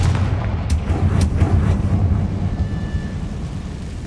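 A Confringo fire spell explosion in Hogwarts Legacy, heard as a loud run of sharp cracking bursts over a dense rumbling roar that slowly settles.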